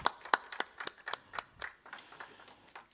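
Scattered hand clapping from a small audience at a film festival panel in Imphal, a few sharp distinct claps in an uneven rhythm that thin out and fade.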